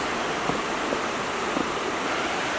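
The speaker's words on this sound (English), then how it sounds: "I can hear water." Steady broadband rush of river water flowing in a Guatemalan jungle setting, continuous and fairly close, with no talking.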